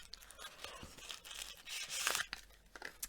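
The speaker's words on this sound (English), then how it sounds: "And it came wrapped up in this lovely pink tissue paper." Pink tissue paper being unwrapped from a handmade craft gift, a close series of crisp tearing and crinkling rustles that swell toward the middle and trail off in short crackles.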